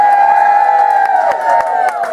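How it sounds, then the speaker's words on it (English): Party guests at a 40th birthday celebration cheer and whoop together in a loud, close burst that holds steady for a couple of seconds. "So if they're here, a big cheer for Heather and"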